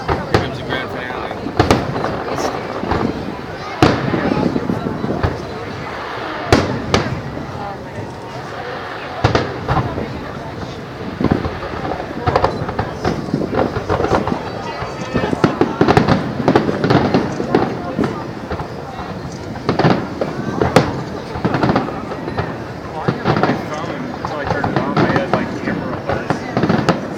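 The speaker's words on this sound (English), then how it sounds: "It's not like any fireworks you've ever seen, is it?" A Fourth of July fireworks grand finale: dense, rapid bangs and crackles in a continuous barrage, loud and sustained, with spectators talking and exclaiming throughout.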